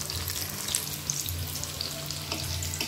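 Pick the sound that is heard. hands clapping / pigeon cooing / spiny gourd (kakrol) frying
spiny gourd (kakrol) frying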